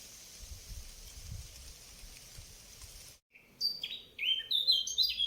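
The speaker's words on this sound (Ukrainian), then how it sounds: "послухайте, як співає соловейко" Quiet outdoor background gives way after a brief pause to a nightingale's bright, clear phrase of varied whistles and chirps, fairly close.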